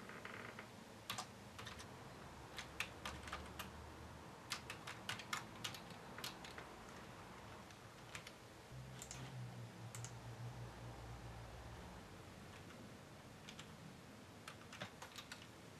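Quiet typing on a computer keyboard while entering a URL to configure an Axel thin client for a Citrix StoreFront gateway, with bursts of close, crisp key clicks in irregular runs separated by short pauses.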